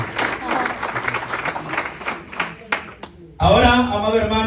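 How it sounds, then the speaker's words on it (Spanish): A church congregation claps for a chaplain graduate at a ceremony in Reno, Nevada, a dense round of clapping that breaks off before a voice starts speaking. "Dele fuerte palmas a Dios."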